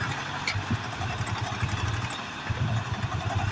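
A tractor strains with a low, steady engine rumble during pond work in the village of Raghuana, its drone continuous and fairly near with slight surges throughout.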